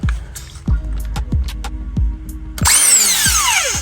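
Impact wrench taking the 17 mm steering wheel bolt off a Subaru WRX STI, a rapid series of sharp hammering impacts followed by a rising high-pitched whine as the bolt spins free, loud and close.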